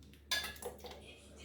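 Diced pineapple drops into a pot with a sudden clatter of pieces against the metal, then a few softer clinks and shuffles fade away without any talking.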